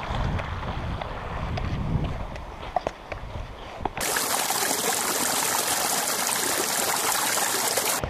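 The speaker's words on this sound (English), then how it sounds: "Little stream." A small stream flows along a forest trail in Algonquin Park, a steady watery rush mixed with wind buffeting the microphone, with the sound abruptly shifting to a brighter, fuller hiss partway through.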